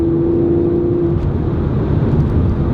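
The engine of a 2018 Mercedes-AMG C43 Coupe 4MATIC drones steadily from inside the cabin while driving, a dense, loud low rumble with a faint whine early on.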